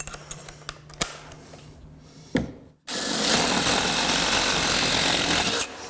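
After a few knocks and a brief buzz, a power drill bores through plywood subfloor in one loud, sustained whirring burst of about three seconds, then stops.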